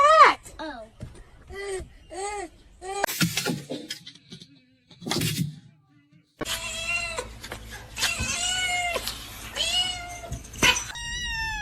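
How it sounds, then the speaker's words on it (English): Several kittens meow repeatedly in high, drawn-out cries, loud and close, with people talking in between and over parts of the calls. "That's your cat!"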